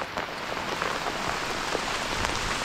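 Heavy rain pours in a forest in large, fast-falling drops, a dense, steady hiss of drops hitting surfaces close by, with no voices.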